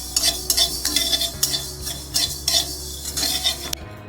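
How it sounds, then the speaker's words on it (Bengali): Mustard seeds lightly frying in a pan for mango pickle, a spoon scraping and clinking against the metal in quick repeated strokes over a soft sizzle. "সর্ষেটা দিলাম, সর্ষেটা বেশি ভাজবে না, বেশি ভাজলে তিতো হয়ে যাবে। হালকা ভেজে নিয়ে"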